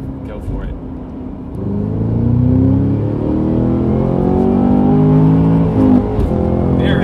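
A Cadillac Blackwing accelerates hard from inside the cabin, its engine note climbing through rising revs with a gear change along the way, loud and close, with voices inside the car.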